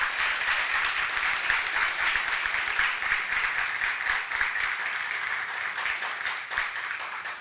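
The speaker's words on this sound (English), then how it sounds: "I can tell why the applause is loud" Loud, sustained audience applause at an engineering workshop in Kumasi welcoming Professor Joseph Opon Akuwa, a dense, even wash of many hands clapping that fades slightly toward the end.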